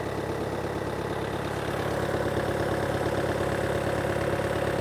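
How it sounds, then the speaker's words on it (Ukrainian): A Volkswagen Passat Variant 2.0 TDI diesel engine idles steadily up close, a constant low rumbling drone with a rhythmic exhaust pulse and no change in pace. "Металічного звуку не чути, тільки такий, як то вихлоп."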